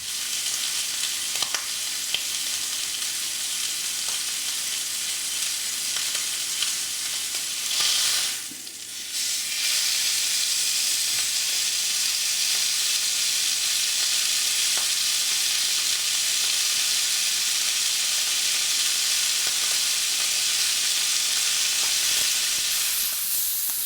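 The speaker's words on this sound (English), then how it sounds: "take and brown this on all four sides in the pan that I'm actually going to cook this thing in" Pork shoulder blade roast browning in a frying pan, a steady loud sizzle and hiss that runs the whole time, dipping briefly once midway as the meat is shifted, with no talking.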